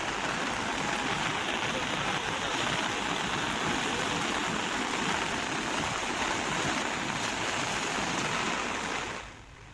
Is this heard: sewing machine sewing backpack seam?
no